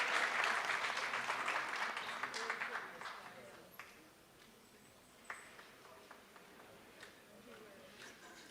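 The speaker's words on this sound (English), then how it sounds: "Another round of applause." Audience applause fills a summit hall, loud at first and then fading after about four seconds into scattered faint claps and room murmur.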